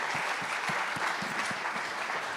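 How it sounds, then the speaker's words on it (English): A summit audience gives a round of applause for politicians, dense continuous clapping from a large crowd with a few louder individual claps standing out. "please give a big round of applause to very sporting politicians"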